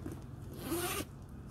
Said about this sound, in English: It fully zips, and the zipper works perfectly.